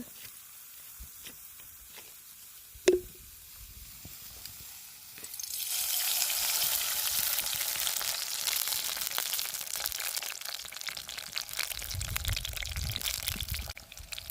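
Oil heating in a pan for a murrel fish curry, a steady broad sizzle rising after a quieter start with a sharp clink near the beginning, continuing close and loud to the end.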